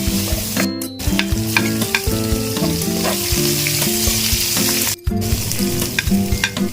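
Ginger sautéing in a pan for chicken sinampalukan, a loud, close crackling sizzle with repeated scraping and clanking stirs and short pauses between strokes.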